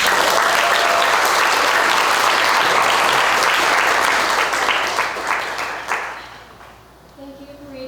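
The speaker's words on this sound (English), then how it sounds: "Let's give them all a huge round of applause" Audience at a girls' leadership summit pitch competition applauds loudly and steadily, a dense wash of clapping that fades out toward the end as a voice begins speaking.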